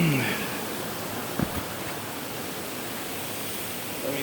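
A waterfall in the Cape Breton Highlands gives a steady, broad rush of falling water that fills the clip evenly, with a couple of brief knocks partway through and a faint voice at the start.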